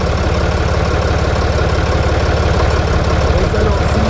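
A Ditch Witch's engine idles loud and close with a steady, rough low chug that does not let up, and a voice may briefly be heard under it.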